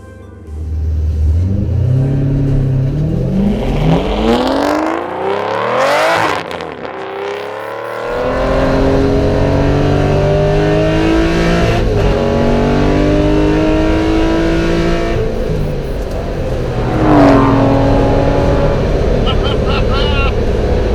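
An Aston Martin GT12 racing car driving through town, its loud engine revving and dropping through gear changes, with a brief lull before accelerating again, heard from inside the car.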